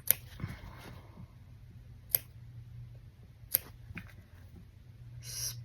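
Scissors making small snips in fabric while a stuffed mermaid toy is turned and stuffed, giving three sharp, isolated clicks spaced over a low steady background, then a brief cluster of snipping near the end.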